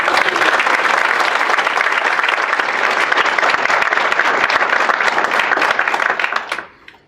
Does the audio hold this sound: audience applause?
yes